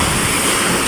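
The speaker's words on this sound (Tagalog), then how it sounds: "Lalaki ng alon ba?" A dense, continuous rush of big Pacific Ocean waves and wind noise around a boat, loud and close, with no breaks or voices.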